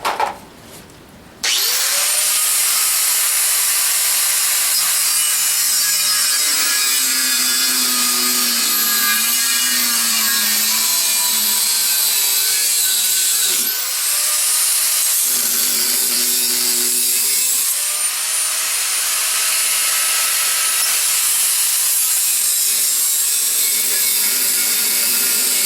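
A blacksmith cuts metal at an anvil, making a loud, sustained grinding and sawing drone that runs almost unbroken for about 25 seconds, with brief dips and a short clatter at the start.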